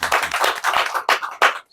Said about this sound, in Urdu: ڈاکٹر صاحب کے لیے بھرپور تالیاں۔